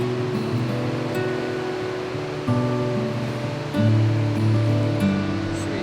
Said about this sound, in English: There's a standing wave that's just kind of built from a rapid in the river here.